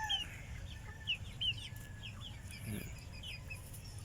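Large, dark gray free-range chickens cluck and call in short, scattered bursts, faint and somewhat distant over a low steady outdoor rumble after heavy rain.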